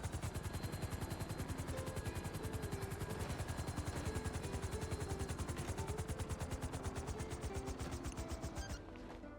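A helicopter in GTA 5 sits landing and parking, its rotor thudding in a fast steady chop with a constant engine whine, loud and close, then spinning down abruptly near the end.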